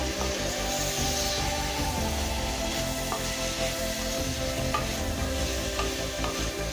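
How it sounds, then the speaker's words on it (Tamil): Beans, green peas, carrot and potato being stirred in a hot pan for a chapathi vegetable kurma, a steady close sizzle with scraping spoon strokes throughout, no talking. "இது எல்லாத்தையும் நல்லா கிளறிக்கலாங்க."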